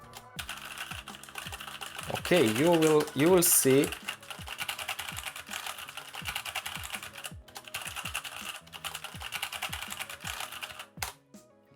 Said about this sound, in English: we will try to press a lot of keys here